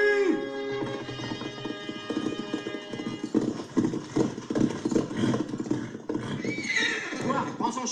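Horse hooves clop steadily at close range. A whinny rises near the start and a sustained tone plays underneath, with more neighing toward the end.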